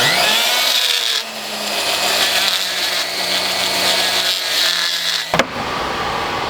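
Dremel rotary tool with a bit grinding metal while a gladius is forged, a continuous close high whine that shifts pitch as the bit bears down, then cuts off abruptly near the end.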